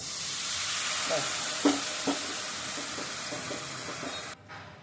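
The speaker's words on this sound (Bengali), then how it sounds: "একটু নেড়ে ছেড়ে কষিয়ে নিয়ে একটু গরম জল দিয়ে দিই" Spices sautéing in a hot pan, a loud steady sizzle with a handful of soft spoon scrapes and taps as they are stirred, then the sizzle cuts out near the end.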